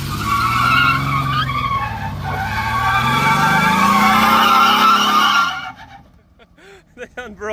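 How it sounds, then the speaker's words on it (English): Junkyard trucks strain loudly at a front-yard derby as one pulls another downward, engines roaring with shrieking tire squeal for several seconds before cutting out, leaving scattered clatter and excited voices nearby. "It's literally pulling this truck downwards."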